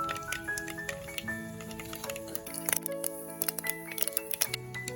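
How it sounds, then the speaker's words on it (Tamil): Mustard seeds and fenugreek splutter in hot oil in a pan while a lemon fish curry is being made, with rapid, irregular crackles and pops over a faint tonal background. "எண்ணெய் சூடாயிட்டு வெந்தயம் போட்டுக்கலாம் கடுகு போட்டுக்கலாம்"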